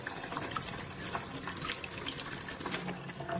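Water pours steadily from the spout of an Olvy temperature-controlled electric kettle with a limescale filter into a tub, a continuous close splashing stream with no talking.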